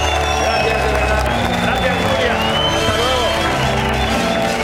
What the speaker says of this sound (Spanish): Un aplauso para Cayo y para Alejandro.